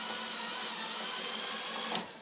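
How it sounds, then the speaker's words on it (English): An electric drill runs steadily at high speed while driving screws into a switch plate adjuster, a continuous whine that stops abruptly near the end with a brief clunk. "with the electric drill"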